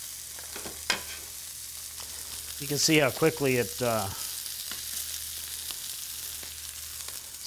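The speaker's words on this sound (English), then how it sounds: "starts to sear, creates a lot of smoke." Beef sears in a very hot, smoking pan in a chef's kitchen, giving a steady close sizzle that runs under a brief stretch of talk.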